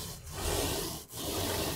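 Paint roller rolling paint across a wall, a continuous close rasping, sticky rub with two brief dips as the roller changes direction, steady and fairly loud with no talking.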